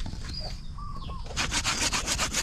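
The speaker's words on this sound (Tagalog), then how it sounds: "Nakahanda na yung lagari natin. Yan. So kailangan na nating putulan." A hand saw rasps through a bonsai branch in a steady run of back-and-forth strokes, about eight quick passes, close and fairly loud, after a quieter start.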